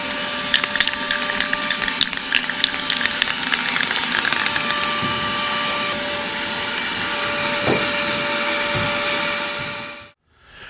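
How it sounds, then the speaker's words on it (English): Vacuum cleaner sucking up stray aluminum bits from a 1437 Lowe jon boat, a steady loud whir with small rattling clicks of debris through the hose, then the motor cuts off and spins down at the end. "My fantastic helper over here is gonna do the vacuuming."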